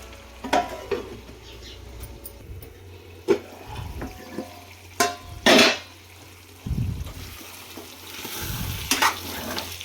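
Masala for a gundekayi fry cooks in a pan with a steady sizzle, broken by several sharp utensil clanks and scrapes as it is stirred, with no voices.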